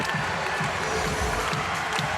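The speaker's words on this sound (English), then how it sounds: "Sold-out crowd here at the Kennel is up." A sold-out crowd cheers and roars at the Kennel during a Gonzaga vs UC Irvine women's basketball March Madness game. The noise is loud, dense and steady throughout, with no voices standing out.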